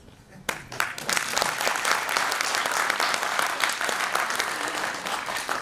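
Sustained applause from a leadership summit audience in Delhi, starting abruptly after a brief quiet moment and holding steady as a dense, full roomful of clapping hands throughout.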